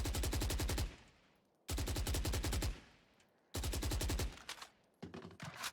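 Three rapid automatic gunfire bursts from a Valorant weapon, each about a second of dense repeated shots with echoing decay and short gaps between, the last burst choppier and broken up.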